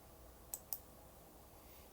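Three sharp, faint mouse clicks, two close together near the start and one alone near the end, over a quiet background hum with no talking.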